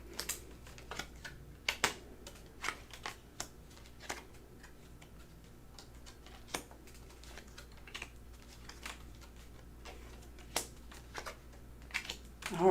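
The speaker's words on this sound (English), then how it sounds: "Let's pull some more cards." Tarot cards being shuffled and pulled, a run of soft irregular clicks and taps close by in a quiet room, with no voice over them.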